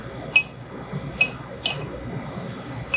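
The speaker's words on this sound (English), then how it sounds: "And then it says we need to stir to combine it." A spoon stirs a bourbon cocktail in a glass, giving four clear, bright clinks spaced about a second apart over a quiet room background.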